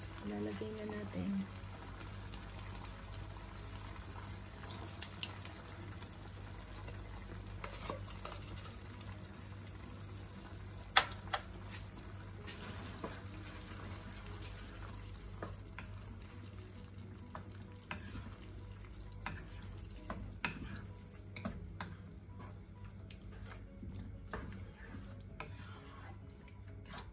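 One cup of sauce is poured and stirred into beef frying with mushrooms and green pepper, giving a rough, steady rasping sizzle with scattered clicks of the utensil throughout; no clear talk.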